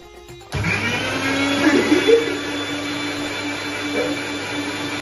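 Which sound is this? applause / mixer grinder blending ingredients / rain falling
mixer grinder blending ingredients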